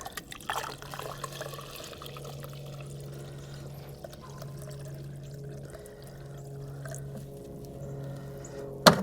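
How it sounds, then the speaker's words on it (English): Hot water poured through a funnel into a car's plugged heater core, with a hose running to a drain bucket, gives a low steady trickle and gurgle that continues throughout, with a brief louder knock at the very end. "We're just gonna pour hot water in here."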